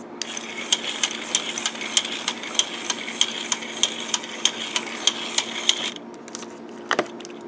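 A battery-operated single-motor steerable pin walker toy walking fast, a steady mechanical ratcheting click about twice per second over a faint motor whir, close by, stopping near the end.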